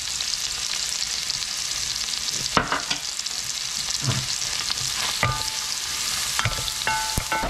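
Onion, shallot and garlic fry in a pan with a loud, continuous close-up sizzle, marked by several sharp spatula scrapes and clinks against the metal, with no voices.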